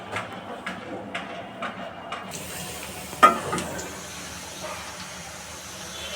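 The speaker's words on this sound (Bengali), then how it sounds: "কাঁকড়া রান্না হচ্ছে বন্ধুরা।" A crab curry with potatoes cooks in a pan with a soft continuous sizzle and hiss, broken by a few light utensil taps and one sharper clatter, with no talking.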